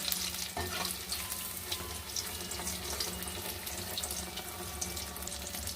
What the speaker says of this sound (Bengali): এখানে এক এক করে ভেজে নেবো।